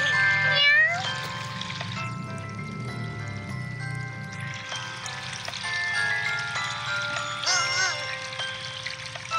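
Several kittens and cats meow in short high calls at close range, with water pouring and trickling in the background and a voice briefly present.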